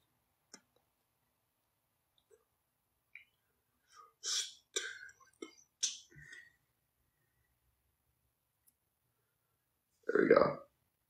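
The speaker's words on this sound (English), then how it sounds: "I'm burping like crazy. Yo, beer makes you burp." After beer and a lot of pasta, a man lets out one loud, rumbling burp near the end, preceded by scattered small clicks, breaths and mouth noises in near silence.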